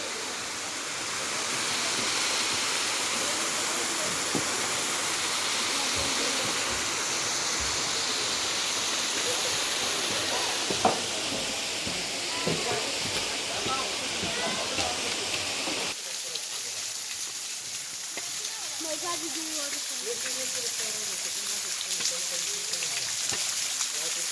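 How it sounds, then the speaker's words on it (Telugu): Rainwater pours down from above at Ahobilam in a steady, continuous rushing hiss, with scattered splashes and drips; the texture thins and grows patchier toward the end. "పైనుంచి వర్షపు నీళ్ళు"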